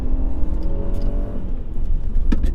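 A 2001 Toyota Avalon engine pulls hard in second gear on a canyon road, a steady loud drone with rising harmonic tones that flatten out midway, heard from inside the cabin with a brief click near the end.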